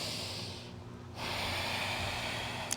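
Deep, audible breaths during a power vinyasa yoga flow: a long, close exhale through the nose and mouth, followed by a short pause and another sustained rush of breath.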